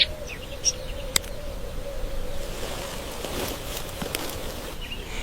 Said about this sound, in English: A massive flock of oxpeckers, the savanna's premier avian pest control unit, descends upon the reptile's domed shell.